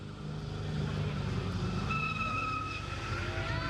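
A supercharged seven-cylinder car at a street drag day skids with rising tire squeal over a rumbling engine, the squeal bending upward in pitch through the short stretch at moderate distance.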